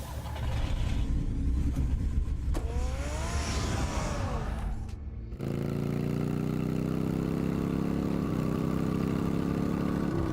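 A car engine fires up and idles with rising revs, then settles into a steady, loud running drone as the vehicle moves off, with no voices present.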